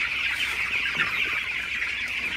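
Broiler chickens clucking inside a poultry house in the morning, a dense continuous chorus of many birds close by with overlapping chirps and clucks, no talking.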